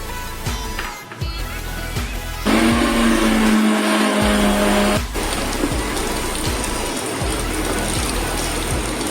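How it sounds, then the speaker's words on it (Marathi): A mixer grinder whirs loudly grinding a spice paste of turmeric and tamarind for Goan mackerel curry, a steady burst lasting a few seconds, its motor pitch rising then shifting, amid background rumble and clatter. "हे आपण आता मिक्सरमध्ये वाटून घेऊया"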